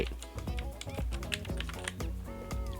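Fingers tap a computer keyboard in quick, uneven bursts of crisp clicks, close and fairly quiet, with a few heavier keystrokes standing out.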